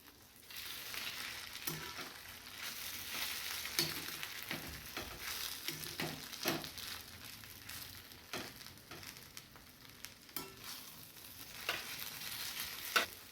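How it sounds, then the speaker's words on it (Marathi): Poha being stirred in a kadhai, with a steady sizzle of frying and a string of scraping spoon strokes against the pan. The sound is close and moderately loud, and nobody speaks. "आता इकडे पोहे सुद्धा आपल्याला मिक्स करून घ्यायचे आहेत"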